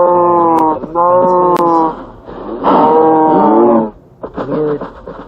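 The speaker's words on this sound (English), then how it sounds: "lured a few cows into the hole" Cows mooing in Minecraft, several loud, drawn-out bovine calls in close succession with brief gaps between them, up close and with no talk over them.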